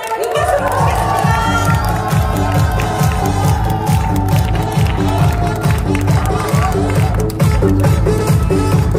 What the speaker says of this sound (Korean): 우리 학사님 김건희 부장님을 큰 박수로 모시겠습니다.